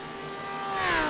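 The number 177 Porsche GT3 race car in a sim racing endurance series gives a brief, loud engine whine that rises and swells as it closes in.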